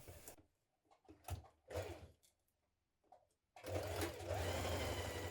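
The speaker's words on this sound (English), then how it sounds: "we're going to sew our underarm seam together, matching the notches here" Sewing machine stitching a sleeve underarm seam on a co-ord garment, short stop-start bursts of motor whir and needle clatter, then a longer steady run of stitching close up, with no talking.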